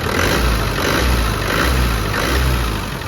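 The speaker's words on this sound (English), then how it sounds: "It revs quite nicely." A 1998 Land Rover Defender 110 300Tdi diesel engine revs up and down in a few smooth swells, a loud, close rumble rising and easing back.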